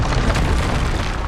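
Confringo fire spell from Hogwarts Legacy going off in a single loud, dense blast, a broad rumbling boom that fills the whole moment close up with no voices.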